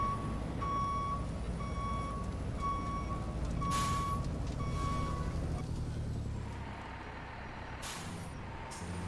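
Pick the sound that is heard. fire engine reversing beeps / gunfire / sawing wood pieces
fire engine reversing beeps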